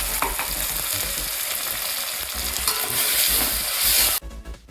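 Onion, tomato and ground green chili fry in hot oil while being stirred, giving a steady, close sizzle with scraping stir sounds that drops off sharply near the end.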